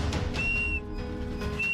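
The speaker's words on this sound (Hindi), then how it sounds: "सीटी बजाते रहे" A man hanging in a deep gorge whistles for help: two sustained, high, steady whistle tones, one early and one at the end, over low background rumble.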